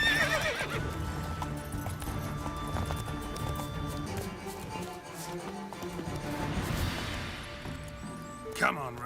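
A horse gallops with rapid hoofbeats and whinnies loudly in The Witcher 3, with game sounds and a voice mixed in across the run.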